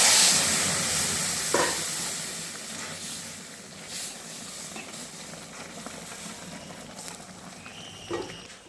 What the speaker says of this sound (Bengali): রাঁধুনি দিয়ে দিচ্ছি, আদা ফোড়ন দিয়ে দিচ্ছি।